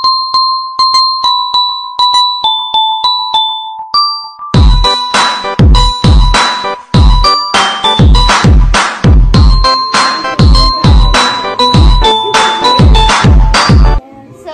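A bright, bell-like Christmas carol plays loudly at home during tree decorating, starting with a sparse chiming melody and then moving into a fuller, evenly pulsing accompaniment that runs steadily to the end.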